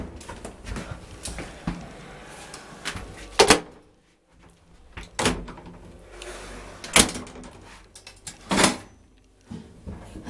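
Door to the machine room of an old 1976 Ram Pastore traction elevator in a Naples apartment building, heard as several loud bangs and clunks of the latch and door with quieter handling noise in between.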